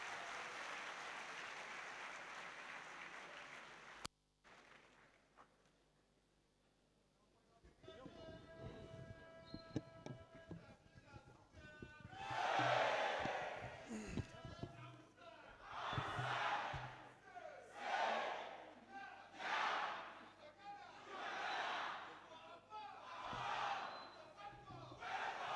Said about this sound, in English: A round of applause for him as he comes to the lectern.